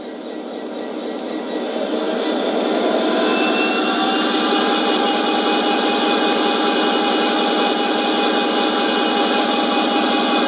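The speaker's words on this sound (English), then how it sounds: "These engines are equipped with sound effects for 8 different RPM levels on the prime mover" Lionel Motor City Express model train locomotive with prime mover sound effects playing at one RPM level, a steady, dense diesel-like engine drone with a rising whine that holds constant and loud throughout, with no talking.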